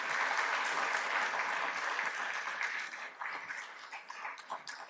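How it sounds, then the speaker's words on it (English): A luncheon audience at a commercial real estate event applauds a speaker, with dense clapping from a room full of people that is steady at first, then thins and fades toward the end. "Let's give him a round of applause."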